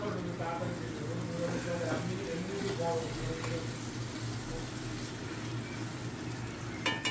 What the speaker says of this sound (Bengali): চিংড়ি মাছটার সাথে মশলাটা ভালো করে কষিয়ে নিতে হবে যাতে চিংড়ি মাছের মধ্যে মশলাগুলো একদম ভালো করে ঢোকে